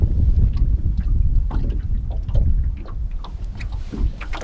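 Gusty wind buffets the microphone steadily on an open lake during fishing from a small boat, a loud low rumble that surges and eases throughout, with faint water and hull sounds beneath.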